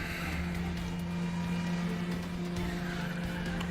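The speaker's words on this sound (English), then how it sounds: "I do love the sound of a good Lambo." Lamborghini engine in the racing game Need for Speed The Run, a steady loud in-game motor drone with a constant low hum running throughout, no voices.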